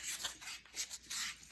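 Soft rhythmic rasping of sandpaper rubbed back and forth over turned wood on a lathe-made wand, close and quiet, in short repeated strokes.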